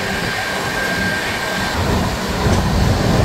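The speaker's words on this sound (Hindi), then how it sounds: "चलिए दिखाता हूँ आपको ताबड़तोड़ क्रॉसिंग राजधानी एक्सप्रेस से।" The Dibrugarh Rajdhani Express, train 12423, rushes past at a crossing: a loud, close, continuous roar of wagons and wheel rumble with a faint squeal, unbroken throughout.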